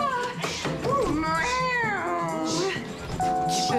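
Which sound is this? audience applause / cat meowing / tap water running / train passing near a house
cat meowing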